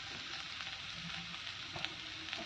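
Fenugreek greens frying dry with potato and brinjal in a pan give a steady, close sizzle with faint stirring scrapes and a couple of brief clinks, with no talk.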